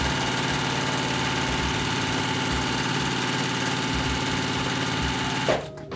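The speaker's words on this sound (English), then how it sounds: "I'm gonna turn it, sew down the second side" Close, steady whirring of a sewing machine stitching down the side of a fabric tube of pieced strips, running continuously and stopping abruptly just before the end.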